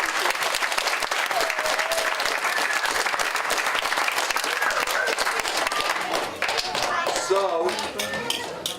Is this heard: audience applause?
yes